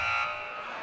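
A harsh, abrasive game show buzzer blares up close, one sustained electronic tone that holds steady for just under a second, loudest at its onset and slightly softer as it continues.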